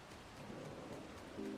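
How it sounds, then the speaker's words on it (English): Quiet rain ambience from the Disney Dreamlight Valley video game, a faint, even patter and hiss that holds steady throughout without any voices. "Why is it still raining?"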